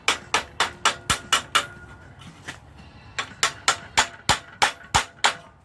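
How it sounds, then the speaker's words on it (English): A small hammer tapping metal mug-handle edges, clean ringing strikes in two quick runs of about six and eight evenly spaced blows, separated by a short quieter pause, close and loud with no talking. "I take a little hammer, just give it some cleaning up"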